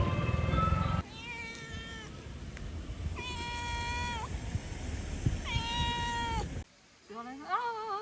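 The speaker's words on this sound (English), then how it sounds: "Look what I found. A little cat." A small, hungry cat meows repeatedly in a rural Chinese village, giving several drawn-out, clear meows close by with short pauses between them, over a steady background hum.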